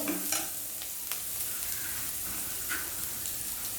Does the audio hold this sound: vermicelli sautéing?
yes